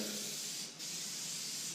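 Spray adhesive hissing steadily onto headliner material and its backing board for a custom Ford F100 headliner, one continuous close spray with a brief pause midway.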